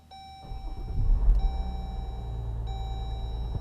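A Jeep Grand Cherokee EcoDiesel cranks and catches, then settles into a steady low idle close by, with chime tones sounding over the engine.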